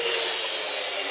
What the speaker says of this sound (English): We use a drill with an old saw blade to mash everything up